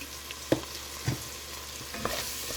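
Garlic and seafood seasoning being stirred in a pot, with a few soft utensil scrapes and taps over a low background sizzle.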